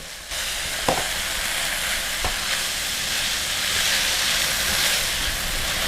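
Steady hissing sizzle of spaghetti stir-fried with minced beef and dried chili in a hot pan, with a couple of sharp clanks of a utensil against the pan.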